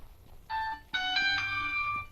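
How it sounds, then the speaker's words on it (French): A phone ringtone plays in two bursts of bright electronic tones, a short ring and then a longer one, clear and close with no talk over it. "Ah, téléphone."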